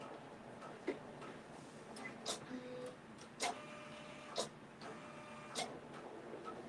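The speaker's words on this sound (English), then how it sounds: "right now it has a auto cut, and so between some of the stitches, it'll raise up, it'll cut, and then it starts" A computerized embroidery machine stitches out a mug rug, a steady mechanical whir with periodic sharp clicks and brief pauses as it raises the needle and trims the thread between sections.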